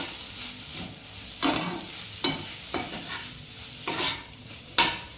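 A spatula scrapes through fried rice with chilli sauce in a sizzling pan, about six distinct stirring strokes spaced unevenly over a quiet background of frying, with no talk.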